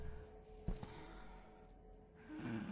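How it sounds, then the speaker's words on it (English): Breathing in the horror video game Visage, a quiet gasp and a few faint breaths against a low ambient drone, followed by a soft rising exhale. "I hear breathing again."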